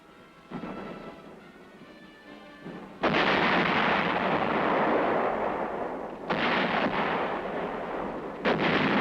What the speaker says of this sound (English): The howitzer shells smash lethal punches into the face of the enemy.